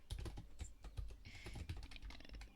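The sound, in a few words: computer keyboard typing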